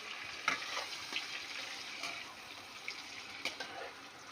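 Koi fish frying in an oil-spiced pan makes a steady, hissing sizzle with soft crackles and occasional faint stirring clinks, close and continuous.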